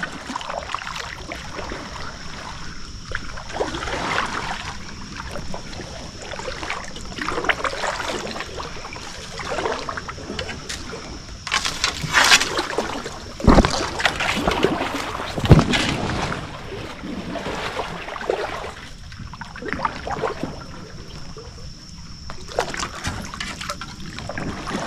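A kayak glides through water in a tight passage, with soft paddle strokes, trickles and occasional splashes close by, steady and fairly quiet, with a faint constant high whine in the background.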